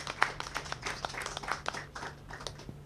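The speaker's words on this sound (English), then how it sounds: "A huge round of applause for Kaustubh sir." An audience at a talk show and book launch claps, giving scattered, uneven applause that is fairly faint.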